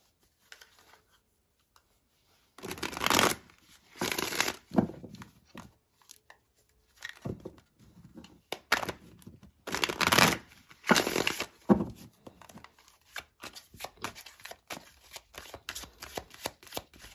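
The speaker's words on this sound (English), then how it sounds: "let's go ahead and get a couple of tarot cards out. I want to use this deck" A tarot card deck being shuffled: several quick riffling bursts, close and crisp, separated by short pauses and softer handling rustles.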